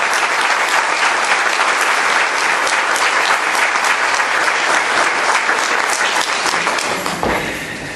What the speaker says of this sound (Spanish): Le damos entonces una fuerte bienvenida con un fuerte aplauso al diácono Jorge Moreno.